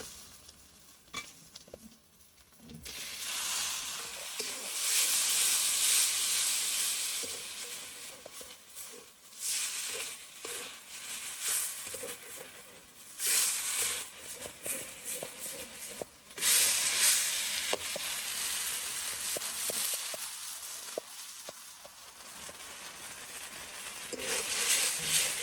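Snail meat sizzles with spices in a hot pan, loud frying hiss swelling and fading in bursts as it is stirred, with scraping and clatter in between.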